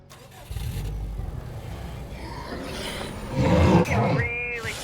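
A car engine in State of Decay 2 cranks and catches, then roars up in a couple of rising revs, close and fairly loud, with game voices faintly underneath.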